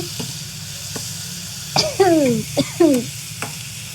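Onion and tomato frying in a pan while being stirred, a soft continuous sizzle under a few scraping strokes of a spoon, with brief clinks and sharper scrapes near the middle; no speech.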